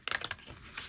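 A chunky tarot deck with smooth, quality cardstock being side shuffled, giving a quick cluster of crisp card riffles and taps early on, then a softer ruffle near the end, close and fairly quiet with no talking.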